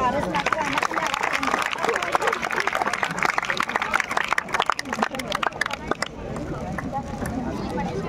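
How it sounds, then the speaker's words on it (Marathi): A school audience gives loud, sustained clapping for its students, with crowd murmur mixed in, the applause thinning toward the end. "त्यांच्यासाठी जोरदार टाळ्या होऊन जाऊ"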